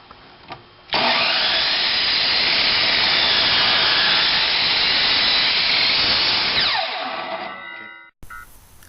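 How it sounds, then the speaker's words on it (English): A power saw cuts through a wooden plank for a birdfeeder roof, starting abruptly into a loud, steady whining cut for about six seconds, then spinning down as the blade slows. "Take the plank to the saw."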